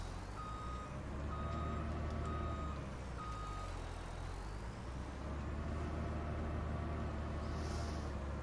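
Trucks reversing in the video game No Man's Land give off a steady series of repeated electronic beeps over a constant engine rumble and roadway drone.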